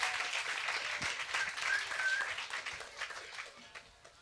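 An audience applauds a singer at the close of an interview and performance show, a fairly soft wash of clapping that fades gradually over a few seconds.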